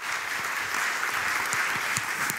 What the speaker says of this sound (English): A round of applause for Dr. Christina Buttler.